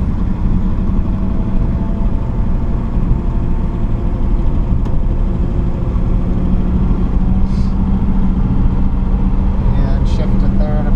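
A 1949 Ford Deluxe engine running loud and close from inside the car while driving and shifting gears, a steady low rumble with road noise and someone talking over it.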